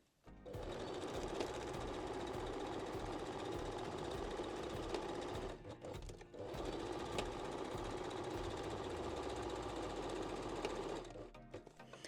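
A domestic sewing machine stitching a fabric band onto bikini bottom edges, its fast, even mechanical whirring running in two long bursts with a brief pause between, close and fairly faint, with no talking.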